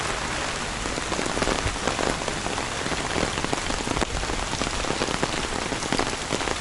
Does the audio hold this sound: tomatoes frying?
no